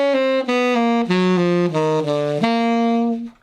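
A smooth, melodic saxophone line over a ii-V progression, a close, solo run of legato notes shifting in pitch, ending on a sustained tone that fades out.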